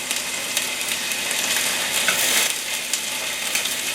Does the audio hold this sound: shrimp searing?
yes